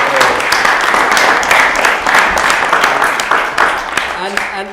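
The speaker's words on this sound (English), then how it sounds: "put your hands together for a round of applause to say thank you to Victoria" Loud, sustained clapping from an audience at a talk thanks a speaker named Victoria, dense and continuous before thinning near the end.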